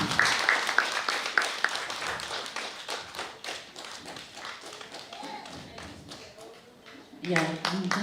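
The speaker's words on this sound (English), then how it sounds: "Claps for her until she sits down." Scattered claps from a meeting audience thin out into sparse taps and thumps, while a person speaks over them and footsteps move about the hall.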